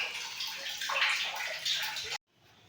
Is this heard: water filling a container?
yes